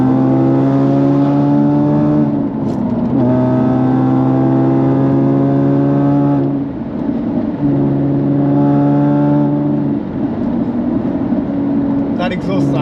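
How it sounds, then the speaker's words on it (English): Jaguar F-Type convertible with a manual gearbox accelerating through the gears, its exhaust rising in pitch in long pulls broken by short dips at each shift, loud and close with faint talk beneath. "That exhaust sound is absolutely addictive"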